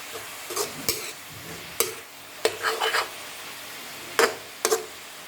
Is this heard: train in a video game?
no